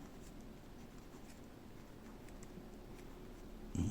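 Kanwrite fountain pen with a stub nib writing on paper, giving a faint, continuous scratchy rasp with light strokes, ending in a brief louder knock.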